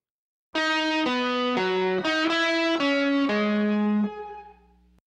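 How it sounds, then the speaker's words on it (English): A clean electric guitar plays a slow series of sustained chords through a Strymon Starlight pedal, each swelling in with a pulsing tremolo and a bright shimmering reverb tail that rings out at the end. "when you kick on the tremolo effect, the shimmer can be heard more clearly between the guitar swells"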